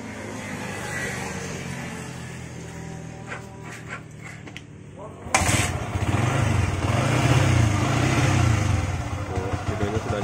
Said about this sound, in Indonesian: Coba hidupkan mesinnya, Bang.